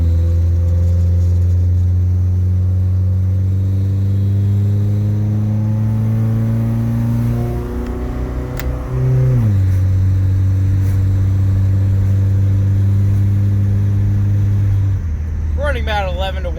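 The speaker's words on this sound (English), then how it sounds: "that's my alternator belt that you hear" A PT Cruiser with Megasquirt engine management and a tight $2,500 stall converter runs not yet fully warmed up, idling near and loud with a steady droning hum. The pitch dips and shifts midway, and an alternator belt whines through the running.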